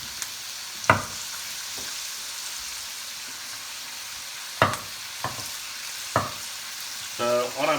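Mushrooms frying in a pan for a Chinese takeaway-style chicken curry, a constant soft sizzle broken by a few sharp spatula clacks, with brief clatter near the end; no talking.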